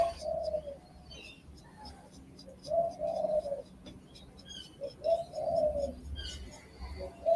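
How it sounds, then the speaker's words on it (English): Wild birds feeding on seeds give loud, repeated cooing calls in short bursts separated by pauses, close by and clear over faint background ambience. "They're not quiet birds at all."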